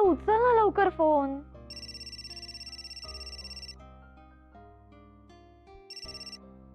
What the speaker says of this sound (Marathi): आई अगं उचल ना लवकर फोन.